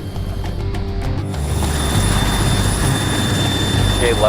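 An MH-47 helicopter in the video game Arma 3, its engine and rotor roaring steadily, a loud continuous whine and rumble that swells slightly, with faint voices underneath.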